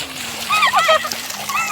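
Children splash and play in a cool river beside rice fields, with a brief burst of nearby watery splashing mixed with their excited voices.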